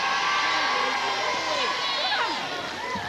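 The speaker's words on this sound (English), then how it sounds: "give him a little applause then, a little applause" A crowd at a 1982 It's a Knockout team game contest in Scotland cheers and shouts with whoops and children's voices, a constant, lively roar heard from a distance.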